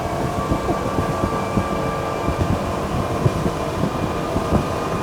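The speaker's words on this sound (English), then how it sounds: "Now you can hear those engines." A Flipper 900 day-boat's engines roar steadily at top speed, around 45 knots, a dense continuous drone mixed with rushing wind and water noise.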